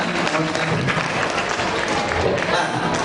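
An audience at a school closing ceremony claps dense, steady applause as a student receives a scholarship award. The clapping sounds loud and close, with a continuous wash of many hands and some crowd murmur.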